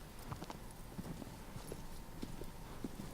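Horse galloping in Shadow of the Colossus in bad weather: quick, irregular hoofbeats clop throughout at moderate distance over a constant windy, rainy background hiss.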